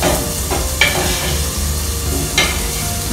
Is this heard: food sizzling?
yes